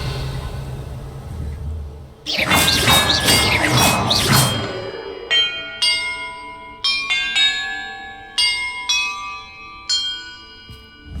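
Bells rung in a puzzle in Hogwarts Legacy: a loud burst of clanging first, then a run of single clear bell strikes, each ringing out and decaying, spaced about a second apart.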